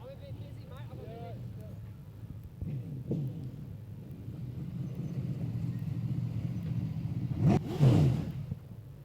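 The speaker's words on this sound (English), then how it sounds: "As the sprint cars make their way out" V8 dirt modified sprint cars rumble around Archerfield Speedway, a faint, distant engine drone that swells and revs near the end, with a commentator talking over it.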